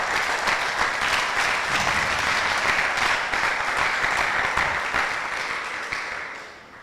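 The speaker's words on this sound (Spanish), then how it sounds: "Denle un aplauso al Señor." A church congregation breaks into sustained applause, dense and even for several seconds before starting to fade, with the hall filled by many clapping hands.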